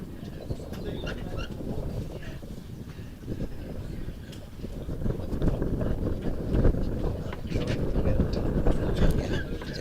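Wind buffets the microphone with a steady low roar that swells louder toward the end.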